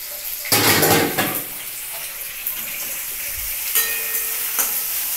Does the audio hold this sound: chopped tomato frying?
yes